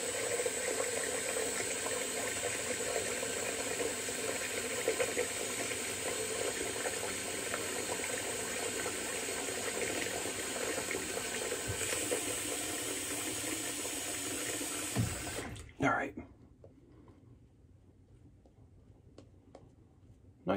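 Tap water runs steadily into a sink during a wet shave, a close hissing stream lasting about fifteen seconds before it shuts off and leaves only faint room noise.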